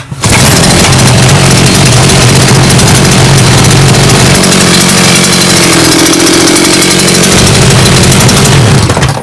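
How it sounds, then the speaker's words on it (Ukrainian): A Chinese TBT 5800 petrol brush cutter trimmer engine, freshly repaired after being covered in oil, running continuously close up, a loud raspy two-stroke drone that dips slightly and picks up again, with no talking over it. "Я вам вже просто заведу і покажу, як це все працює."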